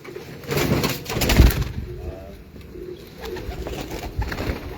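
Pigeons coo softly and repeatedly on a rooftop in Multan, with occasional wing flaps and light background rustling.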